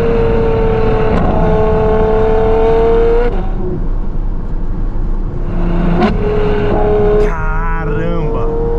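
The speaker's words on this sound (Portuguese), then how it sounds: "Mas muito fenomenal que o barulho desse carro" Ferrari F12 tdf V12 revving hard, a loud sustained howl rising and holding for about three seconds, then dropping to idle before two more sharp blips, with a crackle at the end.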